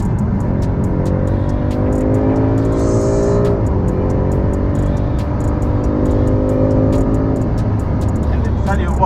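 A 2020 BMW M5 Competition drives fast, its engine note climbing through the gears with a shift partway through, loud and close. Someone talks over the engine, and tire and road roar sit underneath.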